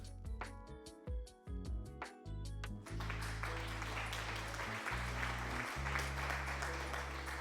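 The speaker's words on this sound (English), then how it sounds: "thanks for the applause, Lion." Recorded applause sound effect played over a live art stream, a dense, steady wash of clapping that swells in after a brief musical sting and continues loud and even to the end.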